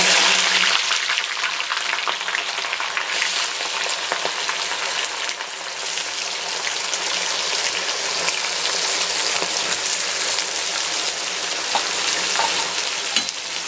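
Chopped onions fry in hot oil in a kadhai for birista, a loud, dense, steady sizzle and crackle that fills the whole stretch with no talk over it.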